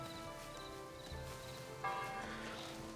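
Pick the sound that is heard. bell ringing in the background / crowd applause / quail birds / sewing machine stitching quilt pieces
bell ringing in the background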